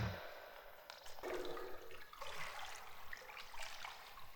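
Water flowing and trickling in a scene from the 1979 film Stalker, a steady broadband wash with a splashing surge partway through, continuous and moderately loud with no voices.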